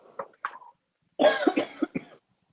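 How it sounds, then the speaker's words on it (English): A person who is sick coughs several times, close and fairly loud: a couple of short coughs, a pause, then a harsher burst of hacking coughs and throat clearing. "Oh, I'm so sick of coughing."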